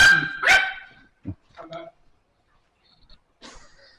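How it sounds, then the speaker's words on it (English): A small dog barks a few sharp yips up close, then the sound fades into scattered short sounds and speech-like bursts with quiet gaps between them. "I did not see that little dog there"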